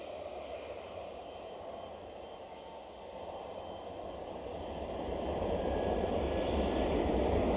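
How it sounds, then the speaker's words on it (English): An Emirates SkyCargo freighter approaches Schiphol, its engine rumble starting moderate and growing steadily louder and closer over the last few seconds, with no voices. "And the Emirates Sky Cargo is nearly here."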